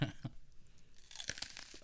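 A raw onion gets a big bite: a sharp crunch, then a few crisp chewing crackles, close and fairly faint.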